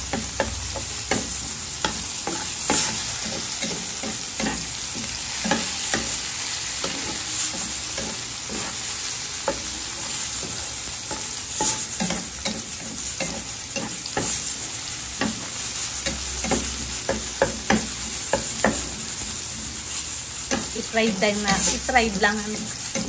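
Squid sizzling in a pan of oil that was already used to fry potatoes, giving a loud, continuous crackle with frequent sharp pops and stirring scrapes. Faint clatter and brief voice-like sounds come through near the end.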